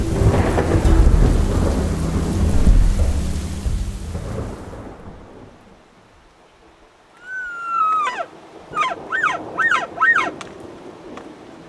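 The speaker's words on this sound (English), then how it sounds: "Thunderstorm rolled overhead, which is a mixture of rain and hail." A thunderstorm of rain and hail rolls over Colorado public land during an elk hunt: loud rumbling thunder and dense pattering rain, which ease into quiet before a series of high, sweeping animal calls ring out.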